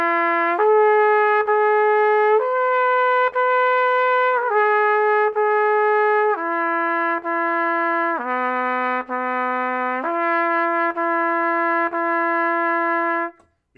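A trumpet plays a series of sustained notes stepping up between partials, clear and loud, with no talking.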